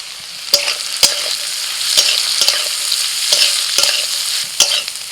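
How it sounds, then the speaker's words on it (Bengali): Vegetables with chopped onion, slit green chillies and salt fry in a pan with a loud, continuous sizzle, punctuated by several sharp clacks of a spatula stirring and scraping at irregular intervals. "সবজিগুলো ভাজা হয়ে গেছে আর সবজিগুলো ভাজতে ভাজতে একটু নরমও হয়ে গেছে।"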